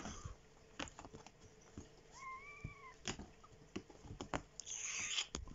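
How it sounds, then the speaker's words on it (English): Small kittens wrestle close by, with soft patter and scuffling, a few sharp taps and thumps, a brief high squeak and some bursts of rustling, all fairly faint and without talk. "Here's some kittens wrestling."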